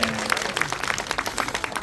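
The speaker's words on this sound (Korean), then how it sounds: "다시 한번 우리 김원주 양에게 큰 박수 부탁드립니다" Brief applause from an audience at an evening moonlight tour event at the Hanyang city wall, scattered claps heard at moderate distance over faint background voices.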